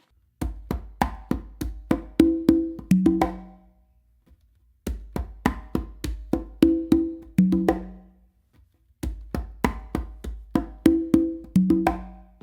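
Conga drum tumbao pattern, one hand on the conga, played as a close, solo exercise: three repeating phrases of quick slaps and taps building to ringing open tones, with short pauses between each pass.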